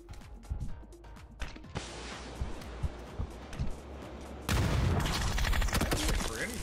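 Rapid bursts of video game gunfire crackle close and loud in a multiplayer shooter match, clustered volleys and single shots overlapping, with a denser, harsher barrage breaking out in the final seconds.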